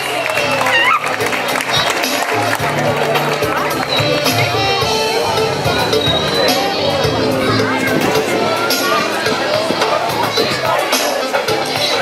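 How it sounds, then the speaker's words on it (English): A crowd claps and cheers in a dense, steady roar of applause, with children's voices and chatter mixed in. "Let's give grade 5 a round of applause."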